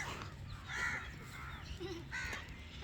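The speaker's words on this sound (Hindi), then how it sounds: "कौवे इतने प्यारे लग रहे हैं, जैसे आज इनकी शादी हो।" Several crows caw repeatedly outdoors in a village setting near Multan, their harsh calls rising in bursts over a steady low rumble of background noise.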